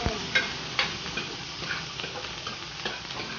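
Mussels with vegetables sizzle and fry steadily on a hot sizzling plate, a continuous close crackle with occasional stirring and scraping clicks, no voices.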